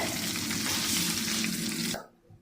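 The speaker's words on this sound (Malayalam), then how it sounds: "നമ്മൾ ഇവിടെ പൊരിഞ്ഞ് ഫ്രൈ ആയിട്ട് വരാറായിട്ടുണ്ട്" Homemade KFC-style chicken sizzles steadily in hot oil, a loud, dense, continuous crackle that cuts off abruptly near the end, leaving near silence.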